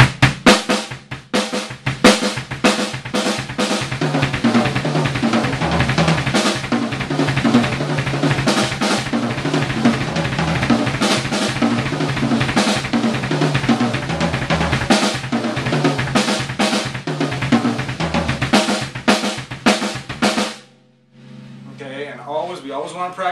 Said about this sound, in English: doubles with just the right foot on the kick drum and the right hand playing around the kit, okay, which would sound like this.